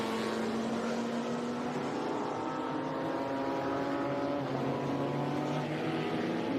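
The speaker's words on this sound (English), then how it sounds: "the four-rotor Mazda Wankel engine. Very distinctive sound." Mazda four-rotor Wankel engine race car, the 792P, running on track at a historic motorsports reunion, a distant steady buzzing engine note with a slowly shifting pitch, faint and continuous without any talk.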